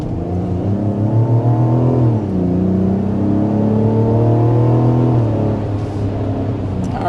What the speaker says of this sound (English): there was another little acceleration